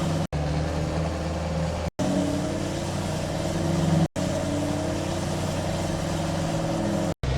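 A truck drives from a farm's main yard up to a field on fall farmland, its engine humming steadily at a mid pitch with road rumble throughout, broken by a few brief cuts to silence.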